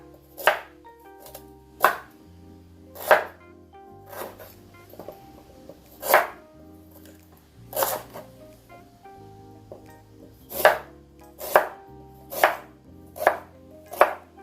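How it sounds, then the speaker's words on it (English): A knife chops unpeeled ginger on a board in sharp, evenly spaced strikes, about a dozen over the stretch, some quick pairs near the end, close and clear with quiet gaps between. "Now I'm going to cut up my ginger."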